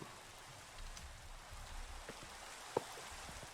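Rain falls steadily in a video game, a soft, even patter over a low rumble, broken by a few sharp drop taps and one louder knock near the end.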